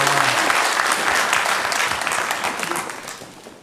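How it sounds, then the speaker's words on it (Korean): A church congregation at a Sunday morning worship service bursts into loud, dense applause that fills the room and gradually tapers off over a few seconds. "영광의 박수를 우리 하나님께 올려드리겠습니다."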